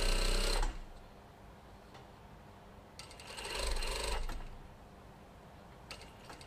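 A sewing machine tacks an invisible zip along the edge of a skirt, running in short close bursts of rapid stitching separated by quiet pauses.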